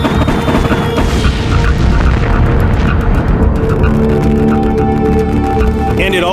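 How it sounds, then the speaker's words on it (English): Fireworks explode at a burning fireworks factory in a Kolding, Denmark neighborhood, giving a continuous loud, booming roar of blasts that lasts throughout and is heard from a distance. "These ground-shaking fireworks are in the process of obliterating an entire Danish"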